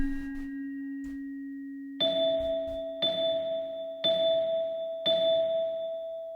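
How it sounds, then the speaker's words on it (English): A celesta plays alone as pitched percussion: a low held tone, then four evenly spaced bell-like struck notes about a second apart, each ringing clearly and decaying, with a faint tapping beneath. "Now we've heard the Celeste. Let's just hear it again in isolation."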